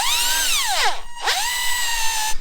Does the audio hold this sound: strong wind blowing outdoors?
no